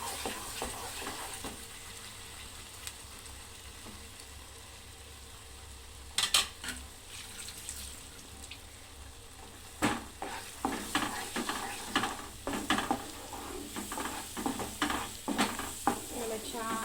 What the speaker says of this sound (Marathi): त्याला छान असं परतून घ्यायचंय।